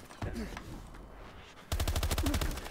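Rapid automatic gunfire in the video game Call of Duty: Advanced Warfare: a short burst early, then a sustained loud stream of shots in the second half, with someone talking over it.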